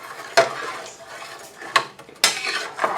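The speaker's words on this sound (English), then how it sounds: "I always like to use a flat bottom spatula so I can scrape this as I go along." Flat-bottom spatula scraping and stirring dry powder mix with water in a pan, a few sharp scrapes and clinks against the metal with soft stirring between them, close and fairly quiet.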